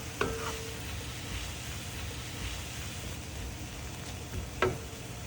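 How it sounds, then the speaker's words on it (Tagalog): Beef and vegetables stir-fry in a pan with gochujang, brown sugar and sesame oil, a continuous sizzle with a couple of sharp utensil scrapes and clanks, steady and close, no talking. "Continue stir frying until luto na ang beef at tender na ang mga gulay."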